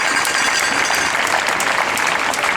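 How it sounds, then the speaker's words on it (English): A crowd at a women's reproductive rights rally in Mountain View, California claps loudly and steadily, a dense, close wash of applause that carries through without pause. "So I think that deserves a round of applause."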